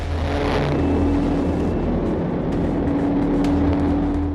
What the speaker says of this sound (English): The Honda Accord not only failed to slow down, but accelerated significantly.